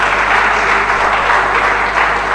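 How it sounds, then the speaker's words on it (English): Audience applause for the Young Lawyers Forum of the NBA Port Harcourt branch at a Nigerian legal gathering, with dense, steady clapping from a large crowd, loud and close throughout. "may we give a round hand of applause to the Young Lawyers Forum MBA Port Harcourt branch."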